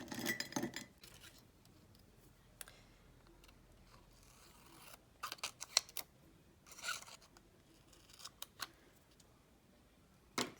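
Scissors snip through paper in a planner, with a few quiet, close, crisp cuts scattered between stretches of near silence.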